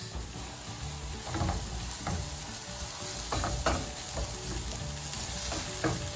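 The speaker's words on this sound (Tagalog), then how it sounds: "Medyo nag-caramelize na yung ating sibuyas." Onions fry and caramelize in a pan for a simple pasta, a close steady sizzle broken by repeated spatula stirs and scrapes at an uneven rhythm, with no voices.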